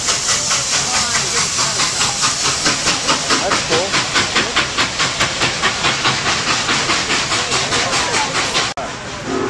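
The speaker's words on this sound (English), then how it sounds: "you can't see it through the uh, through the fence, but it's a steam engine" A steam locomotive chuffs rhythmically nearby, fast regular bursts of hissing steam over a rumbling background.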